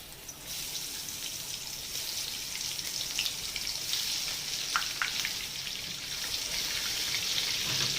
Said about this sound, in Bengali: এবারে আমি এগুলোকে তেলে ভেজে নেব।